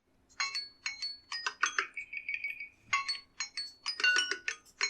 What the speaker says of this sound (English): I like that jingle.